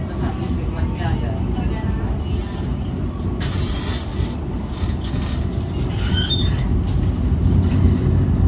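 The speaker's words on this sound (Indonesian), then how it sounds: "Tiba di stasiun Kutoarjo, sepertinya pemberhentian terakhir untuk kereta Java Priority." Java Priority passenger train pulling into Kutoarjo station, a steady low rumble of wheels and carriages with brief hissing bursts and a faint squeal near the end, with people talking over it.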